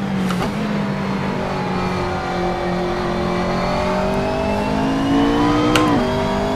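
A McLaren MP4-12C GT3 race car in Assetto Corsa at Circuit St-Jovite, Mont-Tremblant, holds a steady loud engine drone that climbs gradually, then drops sharply near the end as it downshifts, heard up close from the cockpit.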